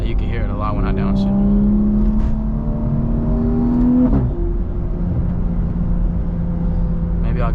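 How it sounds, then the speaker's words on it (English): A BMW B58 turbocharged engine heard from inside the car while downshifting, with a steady loud drone, a rising rev that drops sharply near the middle, and turbo whoosh and exhaust burble afterward. "Turbo definitely sounds way crazier when you downshift"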